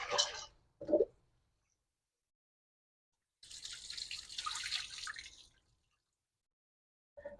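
Dried beans rinsed under running water in a kitchen sink: a couple of short splashes and drips, a pause, then a longer burst of flowing tap water before it stops, with quiet gaps between.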